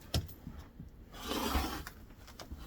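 Thermaline fabric being cut with a rotary cutter along a 15 by 15 inch quilting ruler, giving a soft, quiet rasping glide of about a second amid faint handling taps and scrapes.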